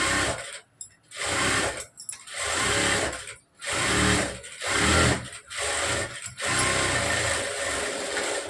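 A sewing machine stitches the side seam of a blouse in about seven fast, loud whirring bursts, each separated by a brief pause, with no talking.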